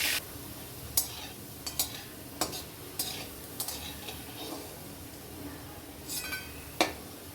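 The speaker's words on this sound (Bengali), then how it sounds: "এরপর করলাটাকেও আমি লাল লাল করে ভেজে তুলে নেব।" Bitter gourd fries in oil until reddish, a soft sizzle running underneath while a spatula scrapes and taps the pan in irregular, separate strokes, fairly quiet overall.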